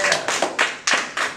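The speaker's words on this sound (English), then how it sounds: "Clap it up." Five sharp, close hand claps ring out at an uneven, quick pace during a lighthearted trivia game, each crisp smack standing alone against near silence.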